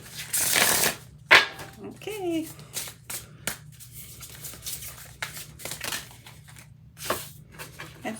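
A quick riffle of cards being shuffled, followed by soft card handling and taps, with a person speaking briefly nearby.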